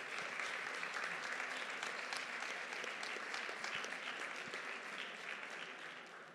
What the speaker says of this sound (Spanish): Un aplauso también para ellos y ellas.